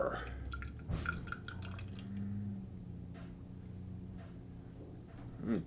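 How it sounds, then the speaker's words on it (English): Blackberry wheat blonde ale pours from a pint can into a Czechoslovakian pint glass, a soft close trickle and glug of liquid with faint drips. "And let's give it a pour."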